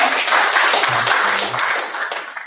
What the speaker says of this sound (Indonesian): Boleh tepuk tangannya lagi.